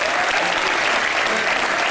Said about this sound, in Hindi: चलिए एक बार जोरदार तालियां कृष्णा, सुदेश और अदा के लिए